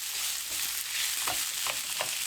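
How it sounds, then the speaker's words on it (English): Aldi fajita and hoisin stir-fry ingredients sizzle steadily in a hot pan, with a constant close frying hiss and a few soft scraping stirs of the food, no voices. "keep turning them and cooking them until they're done"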